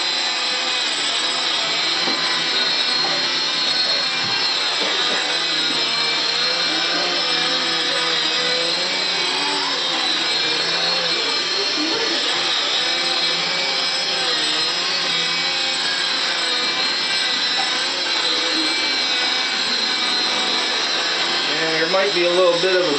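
A radio-controlled MH300 helicopter fitted with an HBV2 tail rotor flies indoors, its steady high-pitched whine and buzzing rotor drone holding loud and constant throughout, with slight pitch wobbles as it maneuvers.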